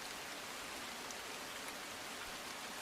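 Heavy monsoon rain falling in Navsari, Gujarat, a dense, even roar of downpour that holds steady and unbroken from start to finish.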